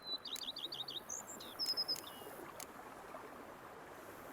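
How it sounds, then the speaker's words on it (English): Birds chirping in a countryside ambience from the video game Witcher 3: Blood and Wine, with quick high-pitched tweets and trills at the start, then a few more calls over a steady rushing background of flowing water. "Bees buzzing, birds chirping."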